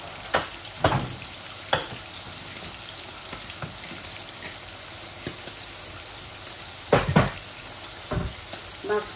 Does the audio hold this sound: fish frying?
yes